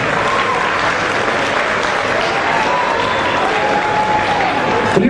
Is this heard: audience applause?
yes